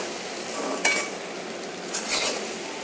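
Vegetable curry of okra and potato is stirred in a covered pot after the lid comes off: two brief scraping strokes of a spoon against the pot over a faint, steady simmer, with no talking.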